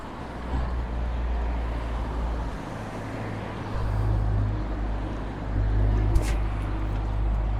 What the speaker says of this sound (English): There's a bus behind us.